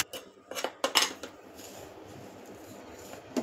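A spoon scrapes and clanks against a pan while mixing fenugreek laddu mixture, a few sharp metallic knocks up front and then softer stirring, close and alone with no talk.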